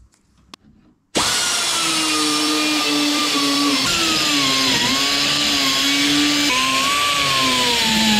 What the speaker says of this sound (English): we'll use a little die grinder here to try and open them out